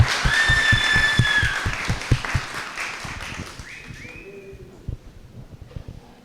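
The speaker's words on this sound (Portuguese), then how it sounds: "Palmas para ele" Audience claps for actor Gideon Rosa at a theatre show, lively applause with some cheering that fades partway, leaving sparse claps, whistle-like tones and a few faint voices.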